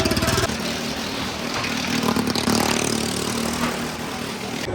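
A motor engine starts and runs at a village fair during the Maghi mela at Takhtupura Sahib, a loud close chugging rattle that settles into a steady running drone amid crowd noise.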